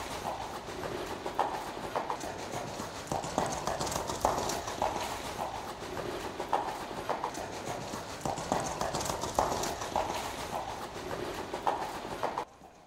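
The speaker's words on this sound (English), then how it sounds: "You will hear a natural 4-beat footfall sequence as that horse travels past it." A horse walks past at a steady pace, its hooves striking in an even four-beat clip-clop that repeats loudly and continuously, with no talking over it.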